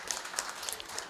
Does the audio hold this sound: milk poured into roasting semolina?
no